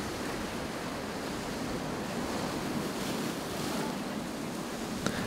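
Ocean surf rolls in steadily at Boca Inlet, a broad wash of breaking waves with wind buffeting the microphone and no voices, continuous and fairly loud throughout.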